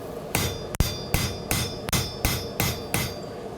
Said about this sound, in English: I'm not really doing forging stuff. Just kind of planishing.